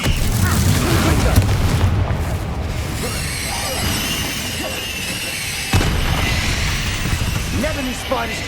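The Confringo explosion spell in Hogwarts Legacy on PS5 sets off a dense, booming blast with crashing debris, followed by sustained rumbling game sound effects and a second burst partway through.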